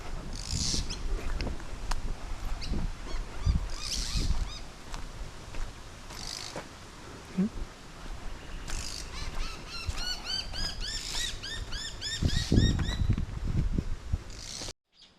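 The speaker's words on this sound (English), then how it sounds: "King parrots flying overhead just up here. That ringing bell-like call." King parrots in flight give ringing, bell-like calls that repeat overhead, several in quick succession, over a rustling outdoor background with faint animal noises.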